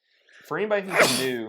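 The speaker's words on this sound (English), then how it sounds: "That sneeze came out of nowhere." A single close, loud human sneeze with a brief inhale before it.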